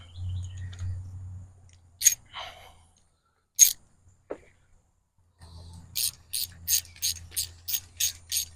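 A ratchet with a half-inch socket is worked during a transmission fluid change on a 2021 Honda Accord. A few isolated clicks are followed by a quick run of evenly spaced ratcheting clicks, close and clear over a low hum.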